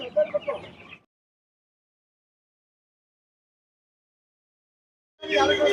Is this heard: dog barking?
no